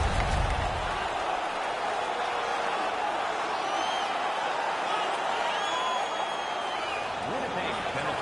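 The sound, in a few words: crowd cheering in NHL 19 video game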